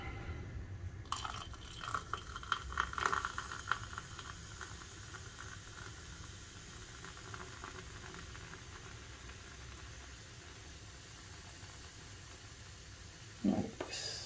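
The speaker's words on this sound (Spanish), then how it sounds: "simplemente le agregamos nuestra cerveza de limón" Lemon beer poured into a glass for a beer cocktail, a soft fizzy trickle and splash close by over a low background hum, fading into quiet with a small clink near the end.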